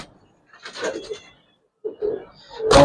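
A single male giribaz pigeon is handled up close, with short bursts of fluttering and scuffling broken by pauses and a sharp, louder rustle at the end.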